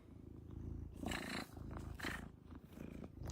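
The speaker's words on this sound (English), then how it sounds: "Loud cat." A cat's loud, rumbling purr runs close and steady through the whole stretch, with a few rougher, growl-like swells.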